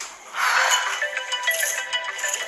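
A telephone rings with an incoming call from an unknown number, a bright electronic ringtone warbling steadily for a few seconds, loud and alone with no talk.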